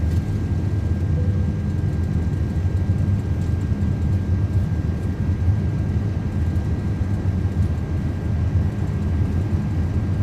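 Twin GE jet engines of an Airbus A330-300 roar at takeoff power in a flight simulator, a steady loud low rumble with broadband hiss and a faint high whine, continuous and unbroken.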